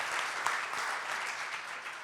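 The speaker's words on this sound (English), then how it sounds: "So let's have some applause for getting progress done in our fine state here." An audience claps steadily at a civic event about gender equality, a dense, even wash of applause throughout.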